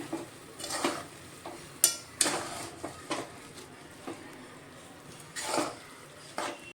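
A spoon stirs milk into roasted grated carrot in a pot for carrot halwa, with scattered scraping strokes, soft knocks and a light sizzle, close by and with no talking.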